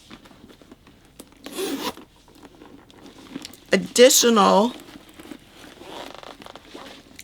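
A bag zipper is pulled open in a quick rasping run, with a shorter zip earlier and a person talking briefly around it.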